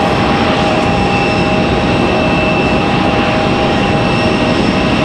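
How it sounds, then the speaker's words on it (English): A Frontier Airlines jet from San Juan, Puerto Rico, at Raleigh-Durham airport makes a loud, steady engine roar close by, unbroken for about five seconds, with a thin high whine over it and no voices. "So here's our frontier from San Juan, Puerto Rico."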